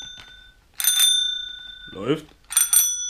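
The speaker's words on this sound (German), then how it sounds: "Fahrradklingeln" A bicycle bell rings twice, bright metallic dings with ringing overtones, separated by a short spoken word in between.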